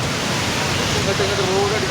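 Swollen river floodwater after heavy hill rain at Karuvarakundu rushes and spills over rocks, a loud, steady, broadband roar filling the scene close by, with a faint voice briefly audible beneath it.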